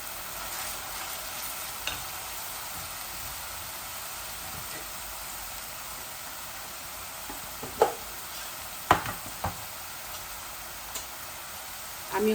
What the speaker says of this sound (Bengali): যে পেঁয়াজটা আদা রসুনটা ভাজা ভাজা হয়ে গেলে আমি চিকেনটা ঢেলে দিব